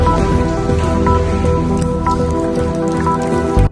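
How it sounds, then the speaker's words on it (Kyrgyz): Rainwater dripping from a leaking roof at a family medicine clinic in Bishkek, a steady patter of drips and splashes that runs throughout, with a low hum underneath. "Жааган жамгырдын суусу оорукананын чатырынан агып,"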